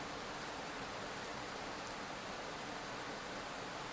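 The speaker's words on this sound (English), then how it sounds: "you cannot go out to play because of rain" Rain falls steadily in an animated cartoon, an even, dense hiss of drops with no breaks, fairly quiet and heard alone without voices.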